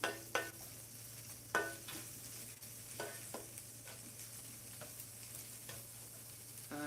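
Potatoes fry in a hot pan for a shrimp breakfast bowl, giving a steady sizzle over a low hum, broken by several sharp scrapes and knocks as they are stirred and spread flat.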